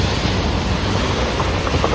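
Heavy, unbroken rain drums steadily, with water running over a road during a monsoon downpour that has lasted all night. Dense wash of noise at constant loudness, with a faint low rumble and no talking.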